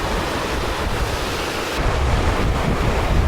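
Sea waves rolling against the shore beside a coastal area near Suvarnabhumi Airport, heard as a constant loud wash of surf mixed with heavy wind buffeting the microphone, with no voices.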